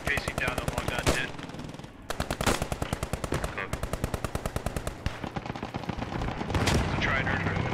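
Rapid, rhythmic machine gun bursts ring out in a World War II battle in the game Post Scriptum, loud and close, with short pauses between strings of shots and other gunfire mixed in.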